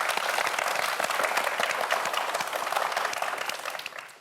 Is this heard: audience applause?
yes